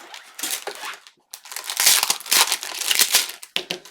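A roll of score tape being grabbed and unwrapped for a paper craft project, with loud crinkling and crackling of plastic wrapping in bursts, a brief pause, then sustained close rustling.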